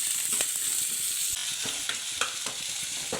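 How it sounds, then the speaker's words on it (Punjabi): Onions hit very hot oil in a pan with browned garlic and sizzle loudly, with intermittent clicks and scrapes of stirring close by and no voices. "ਨਾਲ ਦੀ ਨਾਲ ਆਪਾਂ ਪਾ ਦਿੰਦੇ ਆ ਪਿਆਜ਼ ਪਿਆਜ਼ਾਂ ਨੂੰ 2 ਮਿੰਟ ਸੇਕ ਲਵਾ ਕੇ"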